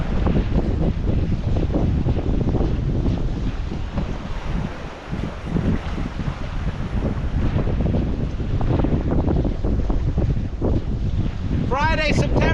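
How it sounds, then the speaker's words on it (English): Strong wind buffets the microphone over big open-water waves while casting spinners for salmon, a steady loud roar of gusts and surf with no one speaking. "Got big wind, big waves."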